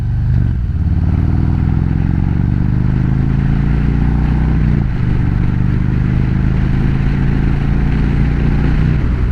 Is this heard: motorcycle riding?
yes